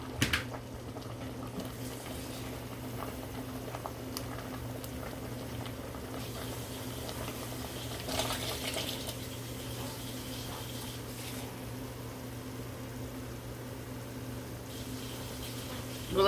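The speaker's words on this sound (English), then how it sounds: "Nope, we gotta add some more water to that." A pot of potatoes boils steadily on a stovetop with a constant bubbling hiss while water is added. A few brief clatters and splashes rise above it, and no voices are heard.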